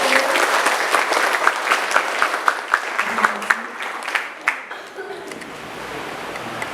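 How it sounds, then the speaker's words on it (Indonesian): A school audience of junior high students at SMP Negeri 3 Ajibarang applauds during a school outreach event, a full, dense wash of clapping with some sharper individual claps standing out, gradually thinning and fading toward the end. "Tepuk tangan dulu buat anak-anak saya"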